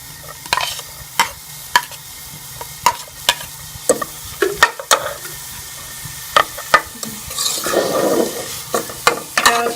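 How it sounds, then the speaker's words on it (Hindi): Chopped onions frying in a spoonful of ghee for potta kaleji, a soft, steady sizzle with repeated sharp clinks and scrapes of a spoon stirring the pan, growing louder and busier toward the end. "देखिए मैंने एक चम्मच घी डाला, इसमें हम प्याज डाल देंगे। ये प्याज डाल के मैं ब्राउन कर लूंगी।"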